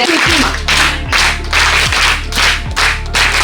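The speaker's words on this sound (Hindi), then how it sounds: "ये स्पेशल तालियां हैं हमारी ग्रेट स्कॉलरशिप के लिए" A college audience at a scholarship event at Hans Raj Mahila Maha Vidyalaya, Jalandhar, claps in loud, regular bursts roughly every half second, over a steady low hum.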